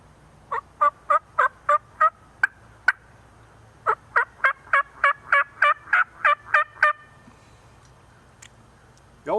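A diamond cutter mouth call imitates turkey hen yelps in two loud, evenly spaced runs of sharp notes separated by a short pause, close up with no talking.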